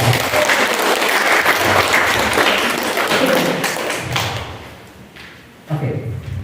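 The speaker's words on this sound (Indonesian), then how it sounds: "Tepuk tangan untuk saya." An audience at a school talk on positive culture claps loudly and steadily, with voices mixed in, before the applause thins out and fades, and a few scattered thumps follow.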